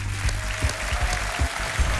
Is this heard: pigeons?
no